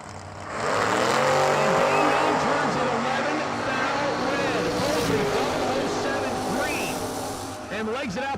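Drag racing cars, including a small block Chevy-powered Firebird driven by foot brake racers in round one of a New Year Nationals event, roar loudly and steadily with engine drone and shifting tones, and an announcer talks over them.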